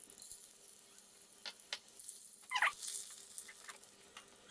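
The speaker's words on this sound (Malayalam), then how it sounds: "ഓക്കെ, ഇനി നമുക്കിതിനകത്തേക്ക് കടുക് താളിച്ചിടണം." Mustard seeds sizzling and popping in hot oil while being tempered for a pork curry in coconut milk, a soft steady hiss dotted with scattered crackles and one sharper burst of spattering near the middle, close and quiet.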